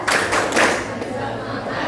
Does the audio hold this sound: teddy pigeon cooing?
no